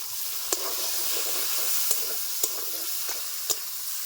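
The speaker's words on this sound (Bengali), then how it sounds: "পেঁয়াজটা বাজা বাজা হয়ে আসছে দিয়ে দিচ্ছি বাটা মশলা আদা রসুন কাঁচা লঙ্কা বাটা একসাথে দিয়ে দিচ্ছি" Onions and a ground ginger, garlic and green chilli paste fry in an oiled pan with a steady, loud sizzle, broken by a few sharp spoon taps against the pan as the mix is stirred.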